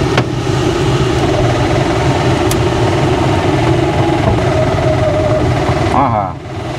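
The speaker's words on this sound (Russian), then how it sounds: "Ну что, попробуем мотор?" The engine of a DG 500 M motor glider runs with a steady, droning hum and buzzing harmonics that holds evenly, then changes pitch and cuts away near the end.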